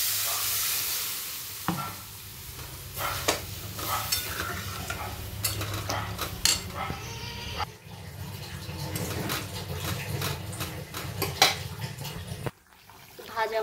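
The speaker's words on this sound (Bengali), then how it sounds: "সামান্য পরিমাণে মিষ্টি দিয়ে দেবো, ভালো করে নাড়িয়ে নেব।" A spoon stirs fish curry with potato and pointed gourd in a pan, scraping and sizzling steadily close by with clinks and bursts of scraping throughout, plus a short drop-off near the end.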